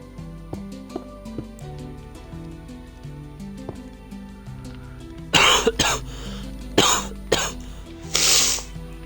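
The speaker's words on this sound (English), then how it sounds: "I'm deafening everyone with coughing." Several loud, close coughs in quick bursts, cutting over quiet background music with steady notes.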